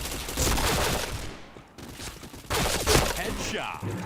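Gunfire in a shooter video game, loud bursts and rapid shots in clusters with short gaps, mixed with excited voices talking over the action.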